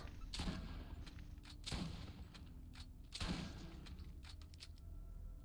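Gunfire in the video game Borderlands, with three loud bursts of repeated shots roughly a second and a half apart, then lighter scattered shots trailing off.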